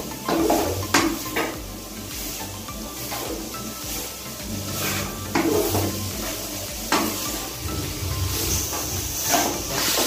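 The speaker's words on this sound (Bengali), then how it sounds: "গাজরটা ঘি দিয়ে ভেজে নেব।" Grated carrots fry in ghee in a pan for Bengali gajar halwa, a soft steady sizzle broken by repeated scraping and clinking of a utensil against the pan, close and without talk.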